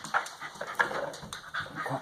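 A dog nearby pants and whimpers softly on a rainy day, giving short uneven breaths and small whines over about two seconds with no talk.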